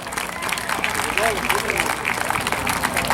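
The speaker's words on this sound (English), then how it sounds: "Let's give all our judges a round of applause" Audience applause for the judges at a Greer Idol singing contest, a steady dense wash of clapping lasting the whole stretch with crowd noise and some voices mixed in.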